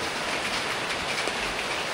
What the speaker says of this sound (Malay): Tiba-tiba balik hujan.